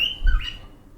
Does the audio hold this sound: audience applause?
no